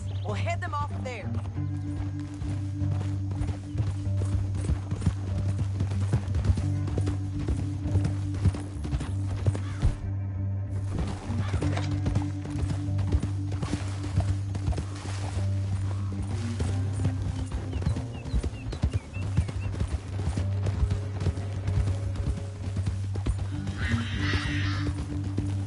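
Rhythmic clip-clop of galloping horse hooves in the video game Red Dead Redemption 2 runs continuously under a steady tonal drone, with talking over it at times.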